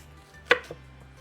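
A knife slices thinly through an onion on a board for a traditional Newfoundland shipwreck dinner, with one crisp close chop followed by a softer second cut.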